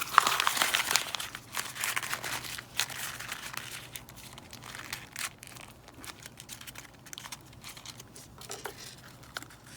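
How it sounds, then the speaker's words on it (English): Cream paper, including one large piece, is crumpled into a ball by hand, giving close, soft crinkling and crackling that is busiest at first and then thins into scattered rustles. "we are going to take the remaining cream paper, including our large piece, and we're just going to crumple it up into a ball."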